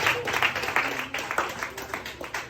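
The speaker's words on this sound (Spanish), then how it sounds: "Denle un aplauso fuerte a Jesús." A church congregation claps for Jesus during a worship service: uneven, fairly close hand claps come in ragged bursts over a low room murmur, with distinct individual strikes rather than a smooth roar.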